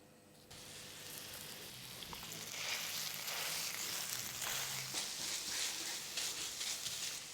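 Diced pancetta sizzling in extra virgin olive oil in a moderately hot pan, a steady close crackle that starts softly and builds to a dense, even hiss with fine pops throughout, no voices.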